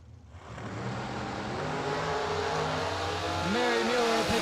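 A 2008 Miller dragster at a Christmas bracket drag race builds a loud, steady engine drone that climbs in pitch near the end, as if revving up; a faint voice may sit underneath.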